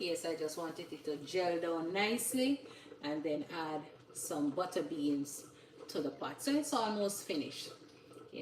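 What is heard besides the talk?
None of the usual background noises is heard.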